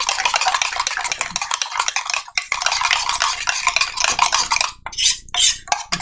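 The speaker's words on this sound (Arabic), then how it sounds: "ونقلب كويس. هنقلب كويس" A metal spoon scrapes and clinks briskly around a small pot as coffee is stirred, a dense, rapid rhythm close up with brief pauses near the end.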